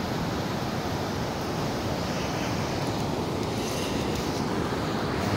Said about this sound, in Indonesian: Ini indah suasana pantainya.